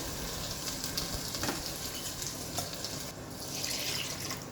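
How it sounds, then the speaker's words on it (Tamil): Water poured into a pressure cooker holding rice for mutton biryani, a steady close splashing gush running continuously for several seconds with no talk. "1 டம்ளருக்கு நான் 2 டம்ளர் தண்ணி ஊற்றுறேன்."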